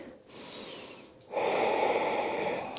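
Breathing during a yoga flow comes in two close, audible breaths: a softer airy inhale, a short pause, then a stronger, louder exhale with no talking over it.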